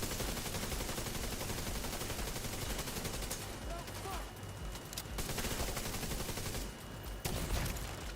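Continuous automatic gunfire from The Division 2 video game, dense rapid bursts of shots with brief pauses, loud and unbroken across the stretch.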